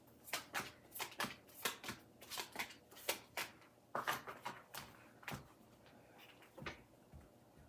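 Tarot cards being shuffled in quick riffling bursts, a dozen or so crisp flutters close by with brief pauses between.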